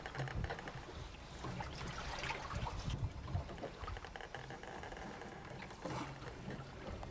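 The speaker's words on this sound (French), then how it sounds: "Les bruits du bateau le soir à la fin de la journée par beau temps." Continuous wash of water and creaking noise from an ocean rowing boat in the evening in fair weather, a steady broad hiss with occasional louder sloshes, no voices.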